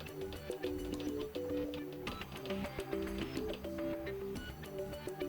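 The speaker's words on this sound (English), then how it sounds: "Then we have to click on the V button 11 times." Buttons are pressed repeatedly on a Miele G 5362 SCVi dishwasher, each press giving a short electronic beep. The quick, faint beeps repeat in an uneven rhythm with light clicks between them.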